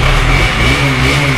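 A KTM Duke 200 motorcycle engine runs loud and close, holding a steady, buzzing drone for the whole moment with no talk.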